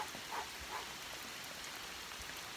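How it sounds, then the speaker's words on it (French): Steady rain patters on a surface in New Zealand, a dense even hiss with a few distinct drops standing out. "On se fait pleuvoir dessus."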